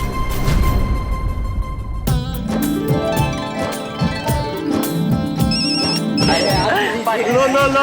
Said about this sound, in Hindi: तारक का फोन है, लगता है टेम्पो की खबर आ गई।